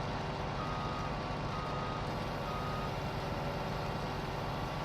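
A combine harvester in Farming Simulator 19 reverses with a steady, evenly repeating backup beep over a constant low engine drone, loud and close throughout.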